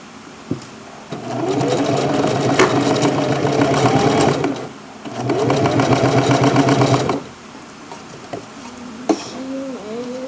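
A domestic sewing machine runs in two loud, close bursts of rapid needle clatter and motor whir, each a few seconds long, separated by a pause and followed by quieter handling sounds.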